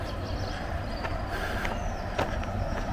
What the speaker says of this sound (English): Train going across.